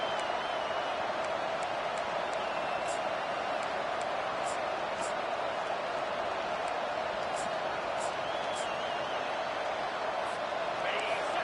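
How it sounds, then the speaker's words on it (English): A stadium crowd at a football game roars continuously on a defensive third down, a dense sustained wall of cheering with scattered whistles and shouts, no break in the noise throughout. "Decibels rising as the crowd gets behind this defense on third down."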